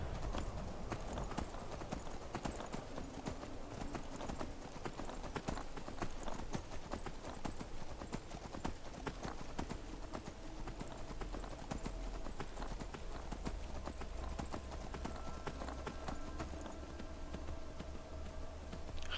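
Horse hooves clip-clop steadily on the ground in the video game Skyrim, a continuous rhythmic trotting that runs the whole stretch at a fairly quiet level with a dense ambient bed beneath.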